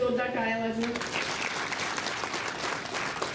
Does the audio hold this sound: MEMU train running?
no